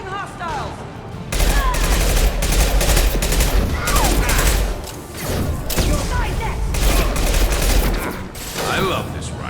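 Rifle gunfire in the video game Mass Effect 2, dense loud bursts of shots and impacts layered with combat effects, briefly quieter midway, with voices intermittently underneath.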